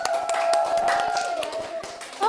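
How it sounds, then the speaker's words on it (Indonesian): Students in a biology class clap their hands together, a quick scattered patter of many claps over about two seconds, with a voice sounding faintly underneath. "Boleh tepuk tangan untuk kalian semua."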